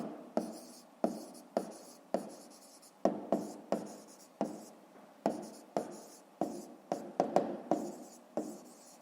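Chalk or marker writing on a board during a fifth-grade math exercise, a steady series of close scratchy strokes and sharp taps, each stroke starting with a click and fading, with no talk.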